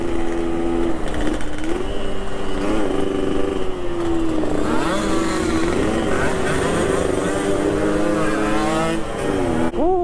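Droning engines of about 200 two-stroke motorcycles at a gathering in Makassar, revving and shifting pitch in overlapping waves, loud and continuous, no speech.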